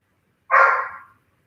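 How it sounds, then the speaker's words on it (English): A single short dog bark or yelp from a pet dog indoors, heard fairly close and loud, lasting under a second with no talk over it. "My darn dog."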